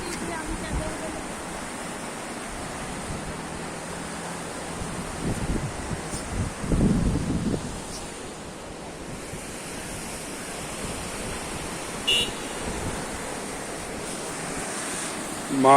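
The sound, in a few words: water flowing below Paikara Dam bridge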